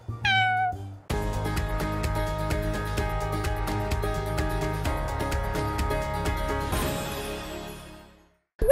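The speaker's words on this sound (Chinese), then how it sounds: "怎么有猫的声音？" A cat lets out one clear rising-and-falling meow, then a steady, rhythmic musical backing takes over and plays for several seconds before cutting off.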